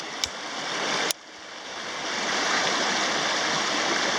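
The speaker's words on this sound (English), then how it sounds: "Well, the creek is running nicely." Water of Canyon Creek by Three Fingered Jack, Oregon, pours steadily nearby, its rushing hiss broken early by two sharp brief clicks, then swelling slightly louder toward the end.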